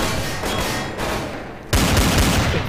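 Gunfire during a Counter-Strike: Source match, loud rapid bursts of shots filling the clip, with a sharper, heavier volley midway through.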